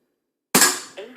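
A single sharp crack from an Air Arms S200 .177 regulated air rifle firing a lead-free pellet, close and loud, followed by a short ringing decay and a faint metallic after-sound.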